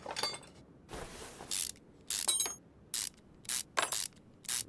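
A ratchet wrench clicks in short repeated bursts while taking gearbox bolts off a car in the Car Mechanic Simulator video game, the bursts separated by brief pauses.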